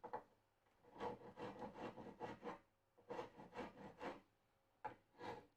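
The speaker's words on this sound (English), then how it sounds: "sneak in there a little bit with the rasp to get it started" A rasp files and rubs at wood in short, quiet bursts of rough scraping, grouped into rhythmic runs of strokes with brief pauses between them.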